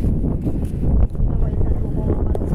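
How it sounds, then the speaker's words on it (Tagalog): Strong wind blows outdoors and buffets the microphone with a heavy, continuous low rumble and gusty roar. A person walks through it, and voices are faintly present. "it's so windy"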